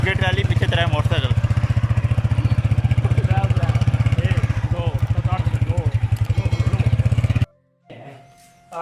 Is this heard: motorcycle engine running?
yes